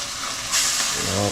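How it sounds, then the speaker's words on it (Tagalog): Water hits a hot frying pan over a stove and erupts into a sudden loud steamy hiss that keeps going to the end of the short moment. "Sige, lagyan mo na ng tubig."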